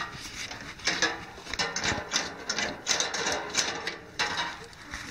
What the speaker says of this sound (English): So the clutch pedal here, really simple clutch linkage.